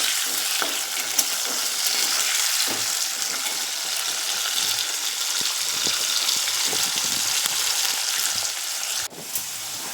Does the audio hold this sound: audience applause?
no